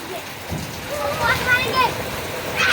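Steady rain pours down in a continuous hiss with scattered drops, while voices speak faintly beneath it.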